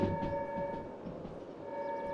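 A train coasting without power in the Derail Valley railway game, a quiet steady rolling rumble with a constant tonal hum and faint wheel clatter, no voices.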